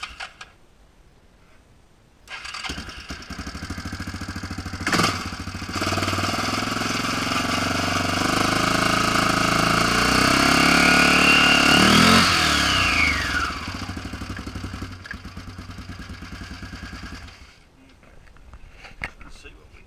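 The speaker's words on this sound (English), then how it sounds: "I'm just going to fire this thing up just to spin it to get enough tension on it" A CVT transmission's engine starts and runs steadily to spin the belt and pulleys, a loud mechanical drone with a rising whine midway, then cuts off, leaving quiet handling sounds.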